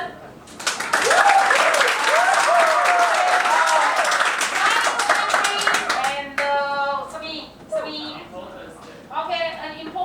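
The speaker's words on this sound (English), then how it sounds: "Clap. 掌声。" Classroom students clapping during an English lesson, steady loud applause for several seconds with voices calling out over it, then a teacher talking as it stops.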